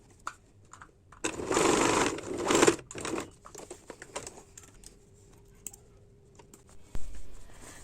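A sewing machine stitches elastic onto small baby panties in two quick close bursts, followed by fabric handling and a few light clicks and taps.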